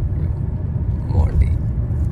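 Steady low rumble of a car driving, heard from inside the cabin at night on the way home, a continuous engine and road drone with a faint voice briefly in the background.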